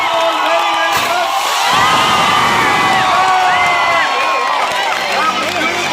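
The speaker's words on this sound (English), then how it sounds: "a loud round of applause for 10 years of I.I.M.U.N." A crowd at a conference applauds and cheers in a dense, sustained wash of clapping with whoops and shouts rising over it, loud and continuous, while voices call out above the noise.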